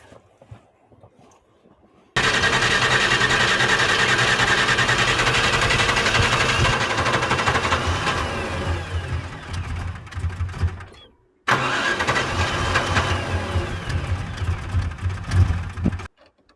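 A vehicle engine cranks, then starts abruptly and runs at a loud, steady idle. The noise falls away, cuts out briefly, then comes back running.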